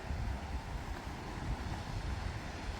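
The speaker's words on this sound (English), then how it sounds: "it's windy" Wind buffets the microphone in a steady low rumble at Cavendish Beach, Prince Edward Island, gusting slightly but never letting up.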